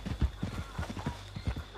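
Horse hooves in Red Dead Redemption 2 clop in a quick, uneven rhythm close by, with a low, muffled quality and a faint steady hum underneath.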